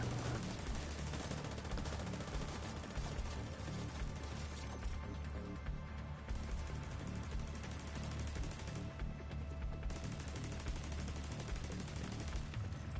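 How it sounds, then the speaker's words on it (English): Continuous automatic gunfire from a deployed turret in The Division 2, a dense, steady chatter of shots running throughout amid loud in-game battle noise with no pauses. "My turret's attacking one guy a little bit farther out."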